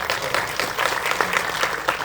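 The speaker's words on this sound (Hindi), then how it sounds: "एक बार जो है माननीय प्रधानमंत्री जी को ताली बजा के स्वागत कर दीजिए" An audience claps in welcome for the Prime Minister at a Samagra Shiksha Uttarakhand education event. The applause is steady and close, with dense overlapping claps for about two seconds and no talk.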